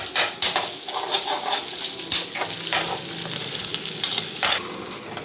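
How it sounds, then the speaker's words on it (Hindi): Noodles sizzle and crackle in a hot frying pan for manchow soup, with stirring and sharp metal utensil clinks against the pan throughout, close and busy. "ये क्रंची नूडल्स बॉईल करके और फ्राई कर लिए हैं"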